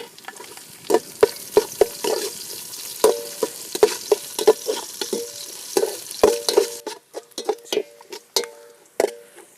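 Ginger frying in hot oil for a Kerala chicken curry crackles and sizzles while a spoon stirs and scrapes the pan in irregular taps, close and clear with no talking.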